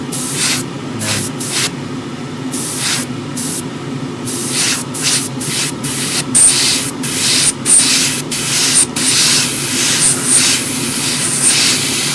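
Short and longer hissing bursts of an airbrush spraying grey filler primer, loud and close, coming in stop-start pulses that grow quicker and more regular toward the end.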